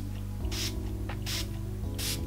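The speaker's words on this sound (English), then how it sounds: "I'm just gonna set my face real quick with the XX Glow Fix setting spray" Revolution Glow Fix setting spray misted onto a face, three short close hissing bursts from the nozzle with brief gaps, over a low steady background hum.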